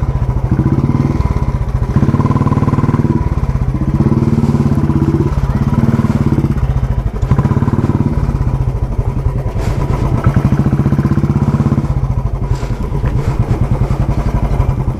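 A motorcycle ridden along a road on a trip around Kemmangundi in Chikmagalur, its engine droning loud and steady throughout, with occasional thuds and rattles from bumps.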